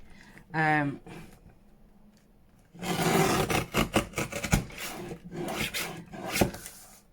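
Paper is trimmed around handmade mini notebooks made from packaging, giving a run of close scraping and rasping strokes with short pauses between them, after an earlier brief remark from a woman.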